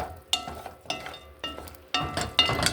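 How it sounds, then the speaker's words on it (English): Meat simmering in a dry pan without added oil is stirred in four separate bursts, each a close scraping rustle over a soft sizzle, with quieter pauses between. "Meat is still simmering, and we're gonna stir it a little bit"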